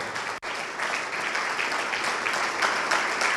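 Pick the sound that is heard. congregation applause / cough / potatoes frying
congregation applause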